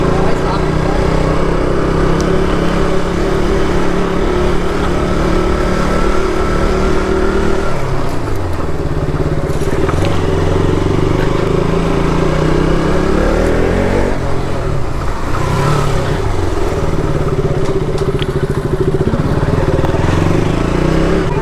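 A KTM Duke 200 BS4 motorcycle engine drones loud and steady while riding, its pitch rising and falling through gear changes and throttle shifts, with wind and road noise around it and no break in the sound.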